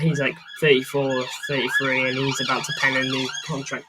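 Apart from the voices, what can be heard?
emergency vehicle sirens outside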